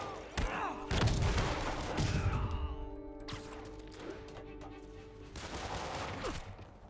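Bursts of enemy gunfire in the Marvel's Spider-Man GOTY Edition game on PS4, loud crackling volleys with heavy thuds, repeated across the stretch amid game music and effects.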